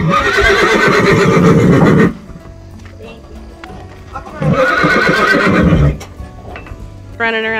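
Surrendered horses, including a resistant Mustang, whinnying loudly twice in long neighs at close range, with hooves clip-clopping as they run around between calls.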